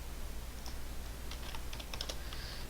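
Someone types a price into a computer spreadsheet, and a short burst of light, quick keystrokes clicks on the keyboard close by in a quiet room.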